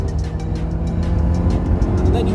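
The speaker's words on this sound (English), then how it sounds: "you need to get it into VTEC and you need to wring the revs out of it" A Honda S2000 engine drones steadily and loudly from inside the car, a low rumbling hum that holds fairly even throughout with no sharp climb, while a voice seems to murmur faintly underneath.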